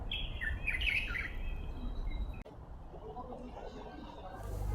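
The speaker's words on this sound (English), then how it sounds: "A lot of birds chirping around me." Several birds chirp and tweet outdoors in spring in China, bright overlapping calls against a steady wash of background noise; the calls fade after a brief knock, leaving quieter ambience.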